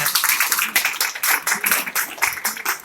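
A seminar audience claps steadily and loudly in a dense, rapid patter that carries on throughout.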